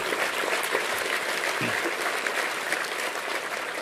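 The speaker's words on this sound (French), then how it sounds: "Vous pouvez les applaudir parce que ce sont des courageux." A crowd at an Emmanuel Macron political rally in Clermont-Ferrand breaks into sustained applause, a thick and even roar of clapping that stays loud throughout.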